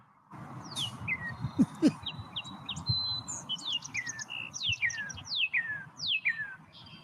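Cardinal song: a run of clear, downward-slurred whistles repeated in quick series, fairly close and bright over a low background hum, with a few other chirps between phrases.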